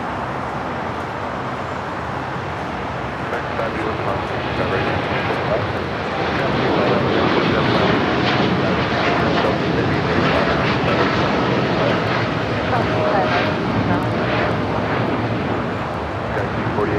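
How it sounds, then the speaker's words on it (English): A Hawaiian Airlines Dreamliner takes off on the south side at LAX, a broad roaring jet rumble that swells around six seconds and holds steady and loud, with talk over it. "I don't see the Hawaiian Dreamliner take off here on the south side too often"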